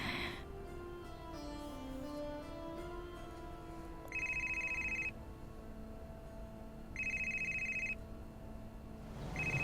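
Ringback tones sound on an outgoing phone call. Two-second bursts recur at a slow, regular pace over quiet background music, and no one speaks.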